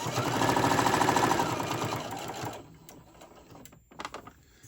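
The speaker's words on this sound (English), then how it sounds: "And I'm going to go sew it down the next side." A sewing machine stitching through a thick, layered quilted hot pad, with a loud, fast rhythmic whir that stops halfway, then quieter handling clicks and rustles close by.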